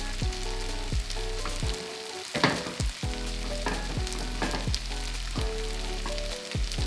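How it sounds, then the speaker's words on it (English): Jollof rice is fluffed and turned in a hot pot, with a continuous sizzle broken by regular scraping strokes of the spoon, close up and steady, with no talking. "I'm just gonna fluff off my rice."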